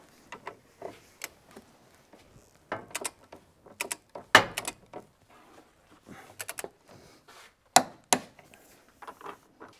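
Wrench work on the rear suspension bolts of a Volvo XC, tightened to 80 Nm: a series of close, sharp metallic clicks and clacks in irregular bursts, some louder knocks among quieter ratcheting taps, with no talk.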